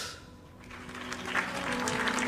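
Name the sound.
audience applause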